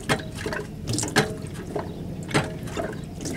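Transmission oil sloshing as it drains from a GMC Savana van, brief uneven liquid splashes and gurgles heard up close.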